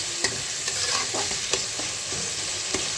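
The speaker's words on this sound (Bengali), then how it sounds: "এবারে টমেটোটা ভালো করে কষবো।" Tomato fries in a pan with a steady, close sizzle while a utensil stirs it, scraping and tapping against the pan at irregular intervals, with no voices.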